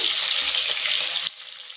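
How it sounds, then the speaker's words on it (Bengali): Hilsa fish sizzles steadily in hot oil for a mustard-poppy hilsa dish, a bright, close frying hiss that suddenly drops to a much quieter crackle near the end. "আমার মাছ ভাজা হয়ে গেছে"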